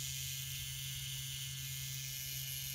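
A Cheyenne Hawk Style rotary tattoo machine running at 10 volts gives off a steady, even motor whir with a constant high hiss and a low hum, heard close and unchanging, with no talking.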